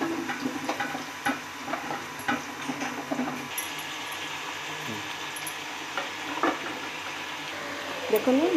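Vegetables frying in hot oil in a pan for an Odia ghanta curry, stirred with steady sizzling and scattered scraping clicks from the spoon, moderately close, with no talk.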